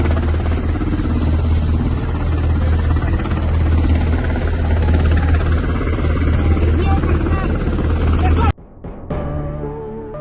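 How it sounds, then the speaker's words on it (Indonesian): An Israeli military helicopter picking up soldiers gives a loud, steady engine and rotor drone that holds for about eight seconds, then cuts off abruptly into near quiet. "terlihat Al-Hadi dijemput helikopter dan sejumlah tentara Israel"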